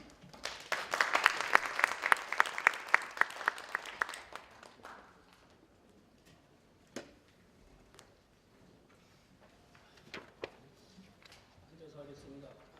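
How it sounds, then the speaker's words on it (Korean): Audience applause at an international academic conference marking the 120th anniversary of the Donghak Peasant Revolution, loud dense clapping for about four seconds that thins out into scattered claps, followed by someone speaking. "큰 박수 부탁드리겠습니다."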